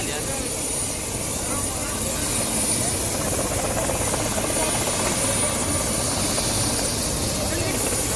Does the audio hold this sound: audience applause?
no